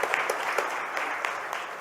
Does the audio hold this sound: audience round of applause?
yes